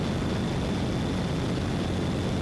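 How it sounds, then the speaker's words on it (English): A Pitts Special aerobatic propeller biplane takes off, its engine a constant broadband roar heard from inside or close by, steady and loud with no voices. "They're off the ground. It's flying like a normal plane."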